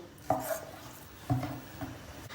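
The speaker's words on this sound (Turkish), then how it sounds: "Hemen tavuk göğsünü doğrayacağız." Chicken breast is chopped with a knife on a board in a home kitchen, with three soft separate knocks of the blade spaced about a second apart, faint and close, no talking.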